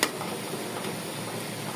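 Onions browning in a pan for a fish roe fry, a steady soft sizzle with faint ticking pops, close and continuous throughout.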